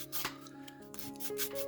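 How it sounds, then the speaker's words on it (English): Sanding on a diecast toy car body for a custom hot rod build, a steady close rubbing scrape with uneven strokes, faint and with no talk. "So let's just do a little bit of sanding to get a better grip."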